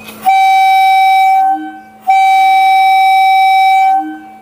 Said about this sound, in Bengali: ট্রেন ঝালুয়ার বের স্টেশন ছেড়ে চলে যাচ্ছে আমতার উদ্দেশ্যে, রওনা দিয়ে দিল।